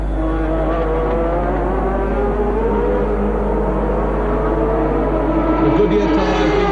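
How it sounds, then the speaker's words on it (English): A 1983 Ferrari Formula 1 race car pulls into the pits, its engine a loud, steady whine under a continuous race commentary voice. "Into the pits comes second place man René Arnoux."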